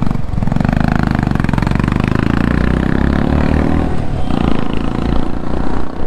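Motorcycle engine idling at a stop beside a roadside viewpoint, a steady loud close chugging rumble with a rhythmic mechanical clatter that holds evenly throughout, no voices.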